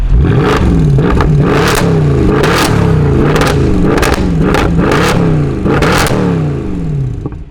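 A loud 2011 Mercedes C63 AMG engine revs repeatedly, each rising whine peaking and falling back in a quick rhythm, close by and with no speech.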